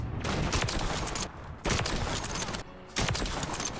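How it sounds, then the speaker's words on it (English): Heavy automatic gunfire from Modern Warfare 3 gameplay, loud sustained bursts of rapid shots broken by two brief pauses, with no talking. "we're hitting shots, but none of them are headshots"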